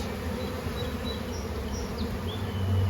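Bees buzz in an open hive during a hands-on beekeeping class, a steady, dense hum close by that runs unbroken throughout with no talking.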